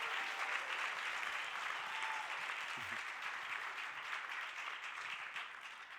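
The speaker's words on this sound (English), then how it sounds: "So please give a real warm round of applause for Johnny Lee." Warm audience applause at an ASUS CES 2017 press event, a steady wash of many hands clapping in a large hall, moderately distant and sustained throughout with no voices over it.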